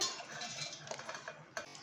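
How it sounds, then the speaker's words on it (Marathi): Green moong dal poured into a mixer jar: a short run of light clinking and rattling against the jar, quiet and close, with a couple of sharper ticks near the end. "आता आपण मिक्सरमध्ये आपण ही डाळ ॲड करूया"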